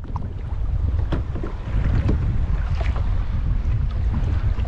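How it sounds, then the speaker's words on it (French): Strong, moderate south wind of around 35 knots buffets a boat crossing open sea from Foumbouni beach toward the Mtsamboro islets, a loud continuous roaring rumble with gusty surges and water sloshing, and no voices. "il y a du vent qui vient du sud"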